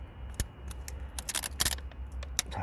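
Protective plastic film being peeled off inside the engine bay of a Kia Sportage (NQ5), giving a run of short crackling rips and tearing bursts, close up with no talking.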